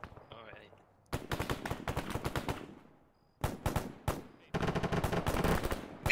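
40mm grenade launcher fire in Arma 3 comes in bursts of sharp repeated shots with rapid automatic rattles between quiet gaps, close and loud.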